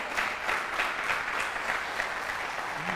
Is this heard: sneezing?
no